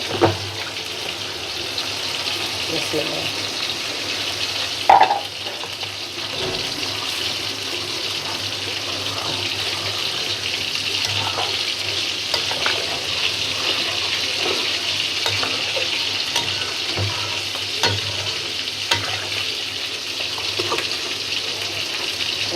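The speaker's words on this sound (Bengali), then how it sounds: "পানি দিয়ে দেবো" Pointed gourd curry with prawns and catfish sizzling in a pan after water is added, a steady bubbling hiss with occasional clinks and stirring scrapes over a long stretch, no voice heard.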